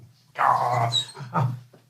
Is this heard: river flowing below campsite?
no